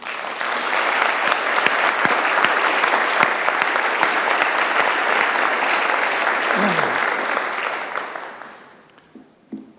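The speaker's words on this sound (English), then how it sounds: "you clap for these people" An audience at a military appreciation ceremony applauds, a loud, dense run of many hands that holds steady and then thins out and fades near the end, with a voice briefly audible as it dies away.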